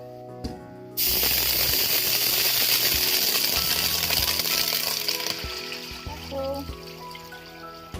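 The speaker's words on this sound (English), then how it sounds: "Pour in 2 liter water." Two liters of water pour into a pot of melted, fragrant spices for chicken biryani, a loud, continuous splashing gush that starts suddenly and runs steadily before tapering off.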